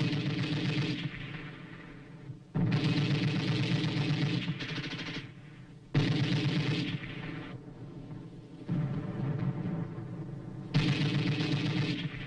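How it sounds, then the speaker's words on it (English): An old Korean War newsreel carries long bursts of machine gun fire broken by short pauses, a dense and fairly loud rattle with a muffled, noisy archival quality. "Allied troops open fire with machine guns on an enemy-held area"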